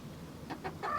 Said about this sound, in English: You have brought the best chickens in the world.